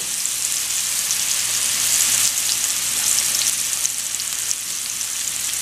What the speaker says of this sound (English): We got a good sear on that side, so we're gonna flip it over, get that side.